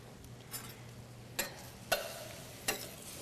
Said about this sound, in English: So we're gonna give that a nice stir.